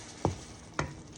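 Shrimp in lobster sauce cooking in a pan, giving a faint, steady sizzle broken by two short clinking stirs, with no voices.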